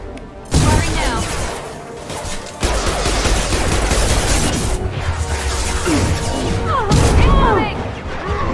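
Weapon fire in Mass Effect Legendary Edition: loud, continuous rattling bursts of shots with crashing impacts and whooshing sweeps, busy and close throughout.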